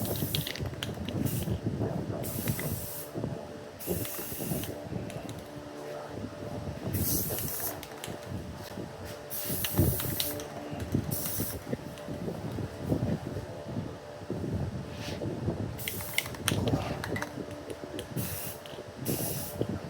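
Red paint sprayed from an aerosol can onto the brake calipers of a 2019 Dodge Durango R/T, with repeated bursts of close hissing spray separated by short pauses, over a low background rumble.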